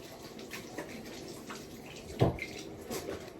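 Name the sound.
washing hands under running water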